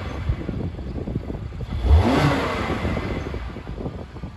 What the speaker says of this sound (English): if any flutter or anything like that happens to the engine as we press the fuel